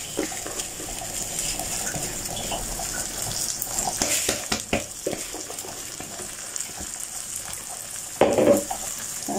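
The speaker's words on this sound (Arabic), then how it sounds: "ابتدي بقى انزل بالرز اهو" Rice hits a hot pan for restaurant-style sayadieh rice and fries in a steady, close sizzle, with stirring clatters and a louder burst of crackling near the end.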